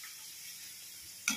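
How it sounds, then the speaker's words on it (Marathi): Peanut chutney roasts in a pan with a soft, steady sizzle close by, ending in a brief louder scrape or clatter. "चटणी पण भाजून घ्यायची थोडी शेंगा"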